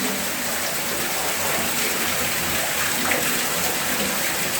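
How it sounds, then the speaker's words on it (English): Water from seven streams gushes onto a Shivling at a riverside temple, a constant loud splashing rush like a running tap or heavy rain, with no voices over it. "look at the water, it's gushing"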